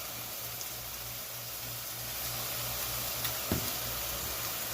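Ground meat sizzling and frying in a pan for a cheap spaghetti dinner, a steady, fairly quiet crackling hiss with a low hum beneath and a brief stir near the end, no talking.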